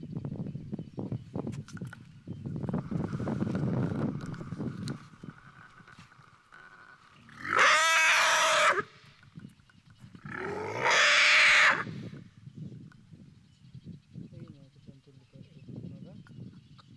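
A baby elephant at a sanctuary gives two long, loud, wailing cries, each a couple of seconds, separated by a pause, with low rumbling and movement noises around them.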